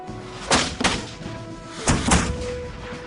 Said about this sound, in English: There is a sudden roar as the British cannons come to life. The American artillery responds in kind.